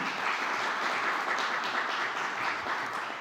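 Steady, dense applause from an audience at a book presentation, a full room clapping loudly and continuously throughout with no break.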